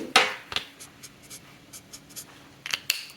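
Pen scratching on paper as fractions are written out by hand, with short quiet strokes and taps spread across the moment, close and faint, no talking.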